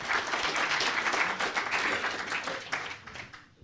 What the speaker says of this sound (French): Merci de les applaudir toutes les deux,